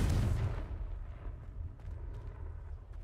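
The Confringo blast spell from the Hogwarts Legacy video game explodes as a deep, heavy boom at the start, followed by a fading rumble with some faint crackling.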